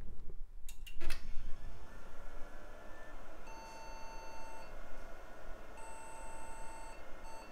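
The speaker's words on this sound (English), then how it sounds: "we got slow beeping, which usually indicates memory failure" A retro tower computer emits slow, repeated POST beeps signalling a memory error, long tones separated by pauses, over a low steady fan hum.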